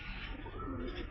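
Racing pigeons in a market give soft, low cooing close by, a continuous murmur with a steady rhythm against light background noise.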